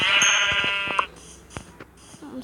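A sheep in Minecraft gives one loud, wavering bleat up close, then only scattered faint thumps and clicks of play follow.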